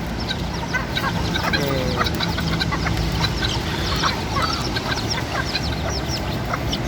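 Bantam hens and chicks cluck and peep all through, with dense overlapping chirps and soft clucks near the listener and no speech.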